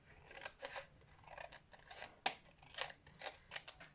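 Scissors snip through a strip of paper for scrapbooking, with a series of quiet, close, crisp cuts in an uneven rhythm and one sharper snap partway through.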